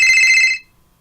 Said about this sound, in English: Is that your phone?